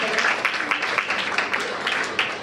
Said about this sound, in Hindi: तालियों के साथ हमारे माननीय मोहित नारंग जी का स्वागत करें